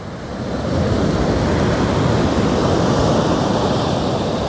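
Sea waves at Kuwaru beach break and surge along the shore in a loud, continuous roar, swelling in over the first second and holding steady, with some wind rumble mixed in.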